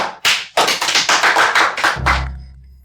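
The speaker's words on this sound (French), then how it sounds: "Applaudissez tout le monde." Brief burst of applause in an office after a new product presentation, a quick run of dense claps lasting about two seconds and then cutting off to a low hum.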